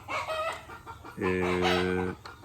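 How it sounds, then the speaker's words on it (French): Roosters and hens in the countryside: clucking and calls at first, then a long loud rooster crow close by with a clear harmonic tone. "Au son des coqs, bien entendu, des coqs et des poules."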